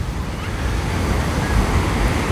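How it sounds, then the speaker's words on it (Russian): Sea of Azov waves wash onto the southern shore at Golubitskaya in a continuous rolling surf roar, with low wind rumble on the microphone and no voices. "Вот она, Голубинское, Азовское море."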